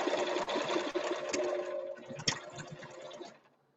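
A sewing machine stitches a fabric banner, a quick mechanical whirring run with clicks that slows and stops near the end.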